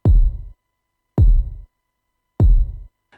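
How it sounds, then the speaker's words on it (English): Three single kick drum hits, evenly spaced and alone, each a deep booming thump with a quick attack and short decay. "this is a very nice kick"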